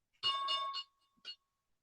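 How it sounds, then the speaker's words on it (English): Market opening bell for a trading session, a short bright ringing burst with a tonal tail, then one further brief ring, faint and without talk. "And there's the bell."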